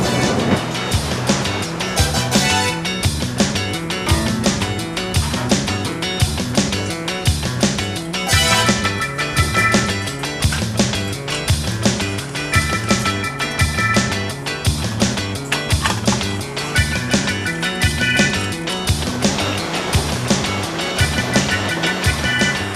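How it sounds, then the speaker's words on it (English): A dairy's milk carton filling machine and conveyor make a steady, dense mechanical clatter and rattle, loud and continuous throughout with no pauses. "And then it comes out of the filling machine, and it's going down the conveyor."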